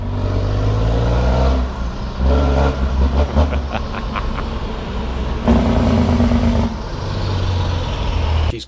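A Foden truck with a Cummins engine rumbles close by, its deep throbbing idle rising and falling in short revs, loud and alone with no talking.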